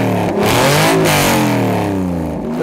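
A Porsche 996-generation 911 engine revs hard, its harmonic pitch climbing and falling as the throttle is blipped several times in quick succession, loud and close with no talking.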